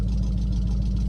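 A 1968 Pontiac Superior ambulance engine idles steadily, close and loud, with a deep even low rumble and no talk.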